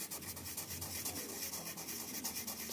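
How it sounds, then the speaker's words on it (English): A wooden lidded box is hand sanded on a spinning lathe, a steady soft rubbing hiss with a faint pulsing rhythm, close and quiet with no voices. "Hand sanding that down."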